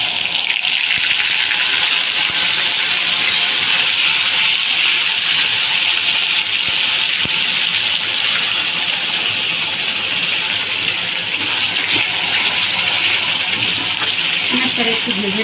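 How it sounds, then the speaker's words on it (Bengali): Onion paste, cumin and asafoetida fry in hot oil with a dense, loud and steady sizzle that holds for the whole stretch. "এই তেলটা গরম হয়ে গেছে, দিয়ে দেবো জিরে ফোড়ন, 1 চামচ হিং, এরপরে দিয়ে দেবো পেঁয়াজ বাটাটা"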